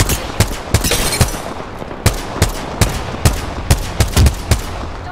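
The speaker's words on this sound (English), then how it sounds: "Taking fire." Video game gunfire rattles out in loud, close bursts and single sharp shots, with short gaps between the volleys across the whole stretch.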